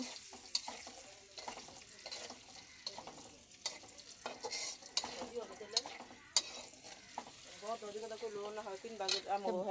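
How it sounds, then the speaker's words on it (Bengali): Boiled potatoes for aloo ghugni fry and get stirred in a pan, with a steady sizzle broken by frequent scraping strokes of the spoon, near and moderately loud, with voices talking over the cooking. "এটা একটু ভাজা ভাজা করব, তারপর এটা বাগার দিব"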